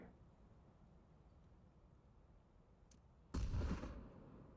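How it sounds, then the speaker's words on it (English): A single distant explosion booms in the VR shooter Pavlov near a bomb site. One short crack comes first, then a muffled blast that fades over a quiet background. "Explosions off in the distance as it seems there is utility being used at a bomb site"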